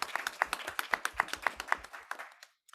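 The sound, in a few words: audience applause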